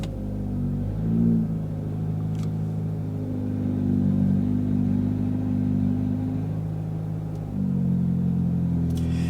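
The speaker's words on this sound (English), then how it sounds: "Gotta love a nice cold start in the morning." A big-turbo Audi S3 engine idles after a cold start, a steady low rumble with a brief rise near the start and a swell around the middle, close and constant throughout.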